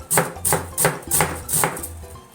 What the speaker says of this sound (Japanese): じゃあこれ1個全部千切りしますね